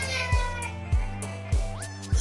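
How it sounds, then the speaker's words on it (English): A pet cat named Discord meows loudly four times in a steady rhythm, each short call close and distinct over faint background music, with no speech. "Ladies and gentlemen, my cat Discord."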